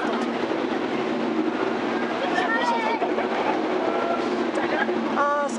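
Roller coaster train rumbling along its track at Parc Astérix at night, with a continuous loud rattling and intermittent metallic squeals, while riders talk and shout over it.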